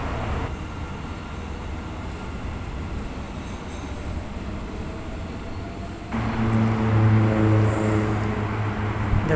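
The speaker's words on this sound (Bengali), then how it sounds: "দেখুন চলে গেল মেট্রো রেল মালয়েশিয়া।" A Malaysian metro train departing, a loud continuous rumble of wheels and motors close by, swelling at the end into a stronger roar with tonal motor whine.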